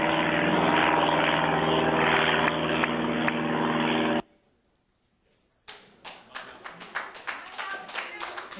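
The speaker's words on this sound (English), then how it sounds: "is my daily exposure to the airplanes." A loud, steady roar of an aircraft passing over a backyard about a mile from an airport fills the first half, then cuts off abruptly; after a short silence, sharp irregular knocks and clicks follow nearby.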